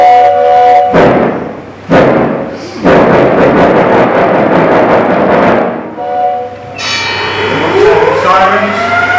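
Wurlitzer theatre organ imitating a train, with rhythmic chuffing thumps that build into a steady rushing rumble, broken by brief pauses, then a rising whistle-like tone sweeping upward near the end.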